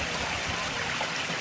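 Water from a regulated low-flow pump spills over a pond waterfall into a stream, making a steady, close rushing and splashing wash with no pauses.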